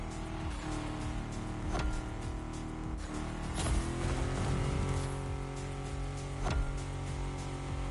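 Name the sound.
off-road Camaro racing on beach, The Crew Motorfest video game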